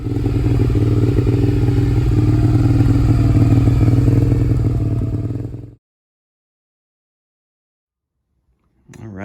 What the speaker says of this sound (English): Gotta give it a little rev here before I turn it off.